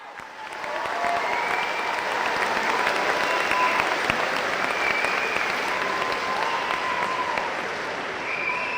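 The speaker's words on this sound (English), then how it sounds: "Let's throw some applause for Stacey Schroeder Watt." Sustained applause from a dinner audience at a 2017 hall of fame induction, dense steady clapping swelling in within the first second and holding loud for several seconds before easing slightly near the end.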